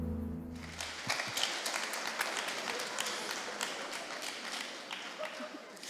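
Clapping from an audience at a relationships and respect talk, starting as a tonal video soundtrack ends, then continuing as scattered, fairly quiet handclaps with some thumps.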